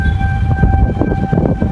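Tornado warning sirens blare in Fort Mill, South Carolina, during a storm with heavy rain, a steady loud wail of sustained tones over a dense rumble of wind and rain.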